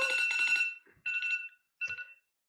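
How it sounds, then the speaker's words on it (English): An electronic alarm beeps in three bursts, a long ringing tone followed by two shorter ones with pauses between, fairly close and clear. "Turn off all alarms."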